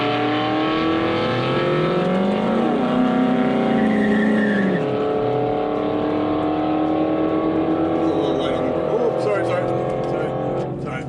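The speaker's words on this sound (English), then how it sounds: "with the 800 RPM idle, this thing just rips off the line" Infiniti Q45 launching hard off the line at a drag strip, its engine rising to a loud, sustained roar that holds steady for several seconds and then settles, close by, with people talking over it.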